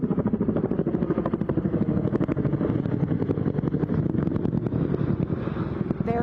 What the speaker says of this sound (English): I'll let you listen to the chopper noise here.